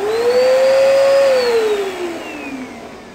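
A vacuum cleaner whines loudly right after switch-on, its pitch rising then falling slightly over a few seconds as the motor settles into a steady roar, close by with no talking.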